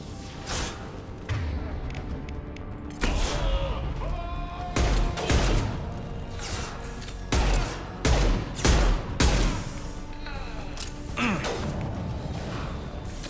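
Gunfire from the sci-fi shooter Mass Effect Legendary Edition pops in sharp, separate bursts spread across the stretch, some close and punchy, over a steady battle background with occasional voices.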